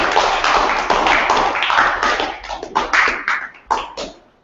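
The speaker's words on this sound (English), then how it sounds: "Everyone, a round of applause for Christina, please." An audience applauds a guest speaker at the end of a developer event talk, a dense, steady wash of many hands clapping that thins into scattered, uneven claps before fading out.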